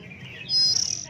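A songbird chirps at a large highland ornamental bird market, giving a bright high whistled call that rises into a brief sustained note and a quick fluttering trill, close and clear over faint background noise.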